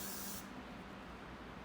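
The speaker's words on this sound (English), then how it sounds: "We're gonna spray," Hairspray sprayed onto naturally straight hair gathered at the base of the neck, one close, loud hissing burst that stops abruptly, leaving a quieter room hum.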